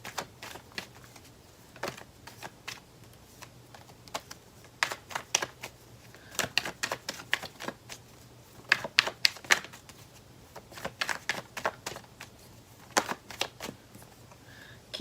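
Tarot cards being shuffled and drawn, giving a run of sharp, irregular flicks and slaps that come in bursts, close and moderately loud, with no talking.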